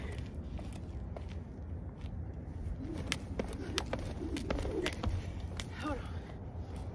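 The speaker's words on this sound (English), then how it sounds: "It's a whole gang of birds over there." A flock of pigeons coos outdoors: soft, low burbling calls rise mid-way over a steady background hum, with faint shuffling steps and scattered chirps.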